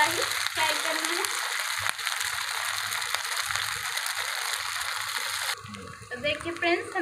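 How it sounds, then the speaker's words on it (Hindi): Potato snack frying in a pan of oil, a steady close sizzle running throughout, with stirring and clatter near the end and a voice talking softly underneath. "हमें थोड़ा थोड़ा ही फ्राई करना है"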